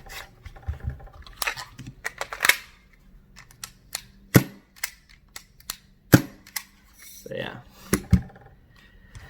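An MK23 airsoft pistol fitted with a stubby conversion kit fires several sharp, snappy cracks at irregular intervals. Soft handling noise and faint mechanical clicks fill the gaps.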